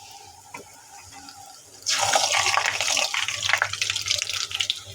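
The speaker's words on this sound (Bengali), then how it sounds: "একটু লুচি ছেড়ে দেব।" Luchi, a puffed flatbread, dropped into hot deep-frying oil. After a quiet start the oil bursts into a loud, sustained sizzling rush that crackles on to the end.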